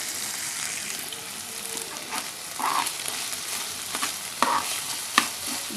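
Chopped coriander being stirred into beef samosa filling in a pan: a soft continuous sizzle with occasional scraping and a few sharp clicks of the spoon against the pan, moderately quiet, no voices.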